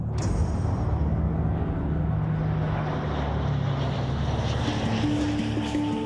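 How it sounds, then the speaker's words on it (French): Distant aircraft engines drone steadily across a dark night sky during a paratrooper commando operation, a continuous low rumble mixed with wind, with a faint tonal hum rising toward the end. "c'est en pleine nuit que je vais enfin entendre le bruit des premiers avions dans le ciel."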